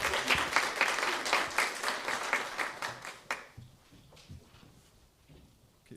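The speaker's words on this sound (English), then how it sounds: "Give him some applause." A panel event audience gives a round of dense, loud applause that holds for about three seconds, then thins to scattered claps and fades out.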